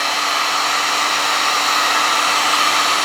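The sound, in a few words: heat gun warming vinyl skin on Honda Motocompacto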